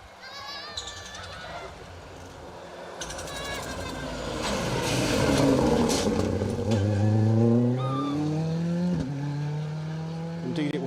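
Bright yellow Ford Fiesta rally car, crew 43, passing on an asphalt stage at Rally Ceredigion 2023, Stage 5: engine note climbs and swells as it nears, peaks loud, then shifts through gear changes with rising, revving pitch.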